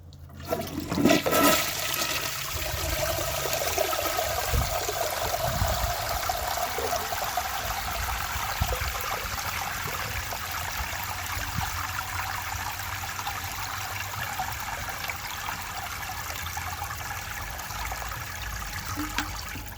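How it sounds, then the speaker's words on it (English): A 1993 Kilgore Aladdin toilet flushes during a flush test with a tower-blocking setup. A loud rushing gush of water settles into a steady, sustained swirl and trickle that lasts nearly twenty seconds. No one talks. "So let's see how it flushes."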